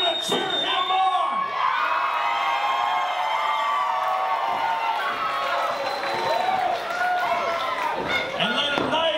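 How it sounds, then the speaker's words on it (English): A wrestling event crowd cheers and shouts loudly and continuously, with whoops and rising yells over a dense roar, while an announcer's voice talks through the din. "And all the main people here are gonna cheer him on."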